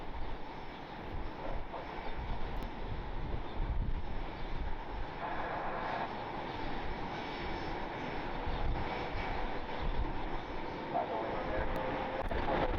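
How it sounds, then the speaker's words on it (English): Aircraft engines at Cleveland Hopkins airport as a Delta Connection CRJ pushes back: a constant, moderately loud jet rumble and whine with some wind buffeting that holds steady across the whole stretch. "Delta Connection CRJ pushing back."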